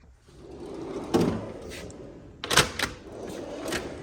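A tool box drawer in a diesel repair shop slides open with a few quiet rattling clicks and metallic scrapes spread over a few seconds.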